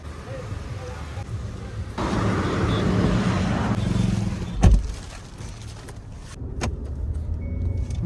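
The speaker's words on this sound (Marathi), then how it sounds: "चला तर मग गाडी काढूया आपण." A new Hyundai Creta pulls out of a parking spot with a low, steady engine hum, a brief sharp knock midway and a rise in engine noise near the end.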